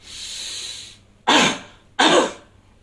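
Two forceful coughs follow a long deep inhalation through the nose, part of a post heart surgery breathing exercise for a coronary heart disease patient, each cough sharp, close and evenly spaced with no talk.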